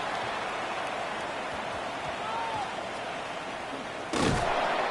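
Steady pouring rain hisses across an outdoor American football game between punts, a continuous broadband wash with a sharper burst near the end.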